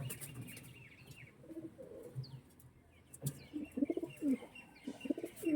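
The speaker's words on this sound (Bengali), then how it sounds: "পিওর ম্যাগনেট ব্রিডের পায়রা এটা।" Pure magnet breed pigeons coo softly in repeated low, throaty phrases with a few light chirps, close by and fairly quiet, with no talking.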